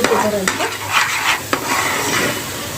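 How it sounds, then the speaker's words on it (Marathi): Paneer tikka masala being stirred in a frying pan, with a steady sizzle under repeated scraping strokes of a spoon against the pan, close and fairly loud throughout. "चला तर मस्त याला असं हलवून घेऊया हा छान शिजून घेऊया"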